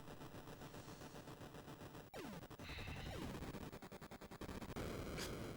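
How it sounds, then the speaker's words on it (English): Rapid, harsh bursts of cannon fire from the Atari 8-bit game Laser Hawk crackle in dense, continuous volleys with static-like noise and occasional sweeping tones, loud and unbroken throughout. "This is supposed to be cannons?"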